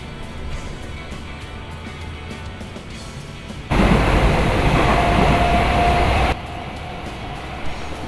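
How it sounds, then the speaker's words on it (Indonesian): A local train at track 4 of Cikarang station: a low rail rumble swells abruptly into a loud, broad roar for a few seconds, then drops back to a steadier background drone. "mata saya malah tertuju sama kereta api lokal yang terparkir di jalur 4 stasiun Cikarang"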